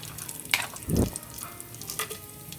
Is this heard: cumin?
yes